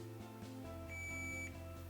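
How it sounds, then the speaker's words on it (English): A multimeter on continuity test gives a thin, faint steady beep lasting about half a second, set over a low electrical hum during repair work on a SEGA Game Gear. "that's the noise we're looking for if we've got continuity."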